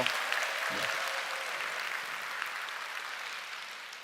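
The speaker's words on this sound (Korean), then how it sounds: "박수를 치시려면 시원하게 치셔도 돼요." Audience applause during a cosmetics product presentation, a fairly close burst of clapping that starts strong and slowly thins and fades over a few seconds.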